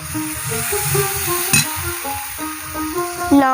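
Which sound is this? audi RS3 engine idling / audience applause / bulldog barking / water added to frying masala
water added to frying masala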